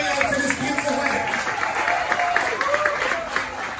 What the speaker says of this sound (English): Give yourself a big round of applause for coming out to this beautiful wedding.